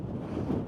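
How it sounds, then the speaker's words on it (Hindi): Strong wind gusting at Chele La Pass, a high mountain pass in Bhutan, buffeting the microphone with a steady, close, low roar and no voices. "बहुत तेज हवा चल रही है, पूरी नाक के अंदर हवा जा रही है जोर से।"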